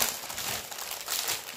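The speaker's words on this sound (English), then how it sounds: "All the nice and crinkly, nice paper." Crinkly paper wrapping around a mail package of junk journal supplies being unwrapped, a close, soft crackling and rustling that comes in uneven bursts with no talking.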